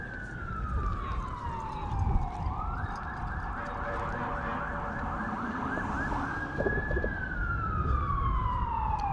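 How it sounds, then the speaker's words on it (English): A wailing emergency siren sweeps up and down, loud and close, over steady downtown Toronto traffic noise, holding a high tone in the middle before falling again. "Wouldn't be downtown without some loud siren action."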